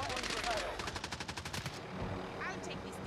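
Rapid automatic gunfire in a Call of Duty Warzone match, a burst of closely spaced shots ringing out loud and near, followed by more scattered firing and game sounds.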